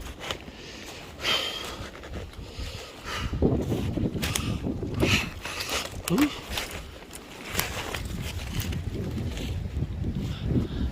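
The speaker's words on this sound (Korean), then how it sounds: "아 바람 부는 거 봐요" Strong wind gusting through a cold, shaded mountain forest, a rushing, buffeting roar that swells and pushes hard against the microphone, while someone talks intermittently over it.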